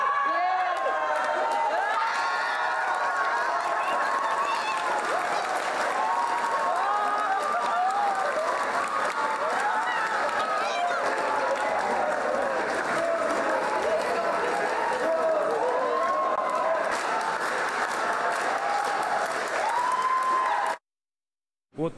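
Crowd of boxing fans applauding and cheering a fighter's win, a sustained wall of clapping, shouts and whoops kept up steadily for about twenty seconds before cutting off abruptly.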